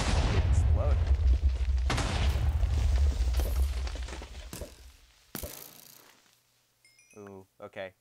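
Kunai explode in a Naruto Minecraft mod: a dense run of loud, rumbling booms and blasts that fades over several seconds, then a sharp final burst and a few short game effects.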